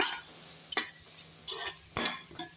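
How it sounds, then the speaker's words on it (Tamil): Grated radish and chili powder stirred in a pan: four short spoon scrapes against the metal, close and moderately loud, with quiet gaps between them and no talk. "இதையும் சேர்த்து நல்லா வதக்கி விடுங்க"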